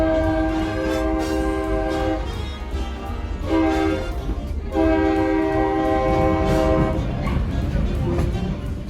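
A Nevada Northern Railway train horn sounds in several long, loud blasts over the low rumble of the moving train.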